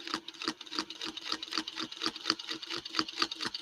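A sewing machine stitches fabric in place with the needle lowered, giving a fast, steady mechanical rattle of evenly spaced needle strokes, close and loud, with no talking.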